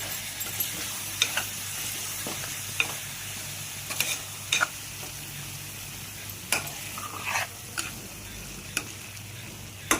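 A utensil stirs a thick raw coconut paste into a cluster beans curry in a pan with a low steady sizzle, broken by sharp scraping clicks and taps at irregular moments.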